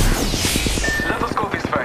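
Rapid gunfire bursts from an Apex Legends firefight, repeated sharp shots in a steady rhythm with sweeping game effects over them, loud and close throughout.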